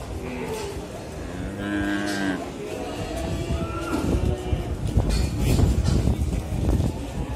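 Simmental cattle moo at a livestock market in Grabag, Magelang, several low drawn-out calls rising over crowd chatter and background noise, with the din growing louder toward the end.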